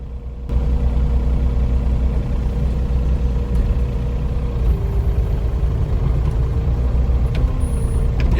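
A farm tractor engine runs steadily on snow and ice, a close, loud, even rumble that holds without a break after a sudden start.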